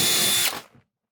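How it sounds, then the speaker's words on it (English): A power drill whines loudly at close range for about half a second while drilling a 5mm hole through a jig, then winds down and stops, leaving silence. "drill a 5mm hole through that hole in the jig here"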